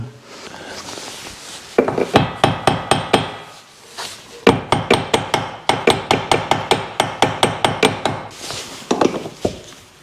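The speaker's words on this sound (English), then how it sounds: "Sometimes if you dash it a little bit with a hammer, it works itself loose" Repeated metallic hammer blows on a BMW E46 330ci differential in quick bursts, sharp ringing strikes in rapid rhythm with short pauses between groups, loud and close.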